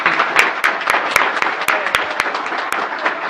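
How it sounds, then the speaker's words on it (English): Audience in a city council chamber applauds during a regular meeting to honor departing long-serving council members: a dense, steady patter of many hands clapping at moderate loudness, with a few sharper individual claps standing out. "just one more round of applause for the service of Mr. Martinez and Mr. Bradshaw, please."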